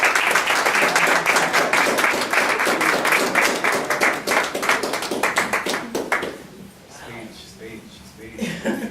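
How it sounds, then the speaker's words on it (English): Audience at a Portland Human Rights Commission meeting claps loudly and steadily for several seconds, then the applause thins out and fades to scattered claps. "And if you guys would mind giving some round of applause."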